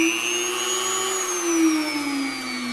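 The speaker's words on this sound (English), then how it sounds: "using my Dremel tool here" A Dremel rotary tool runs close by with a steady, high motor whine whose pitch drifts slightly, alone without voices.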